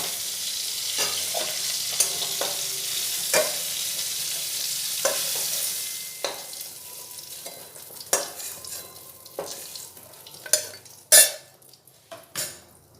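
Prawns frying in oil in a pan give a soft, steady sizzle, joined by clinks and scrapes of a utensil stirring against the pan that grow sharper toward the end.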